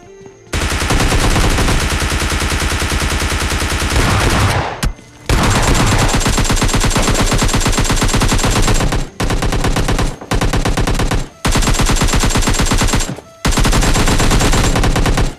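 Rapid automatic gunfire in PUBG Mobile Lite, loud sustained bursts of fast shots broken by a few short pauses, close and dominant with no talk.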